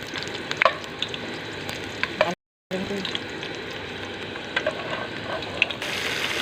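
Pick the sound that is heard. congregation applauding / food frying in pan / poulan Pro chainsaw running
food frying in pan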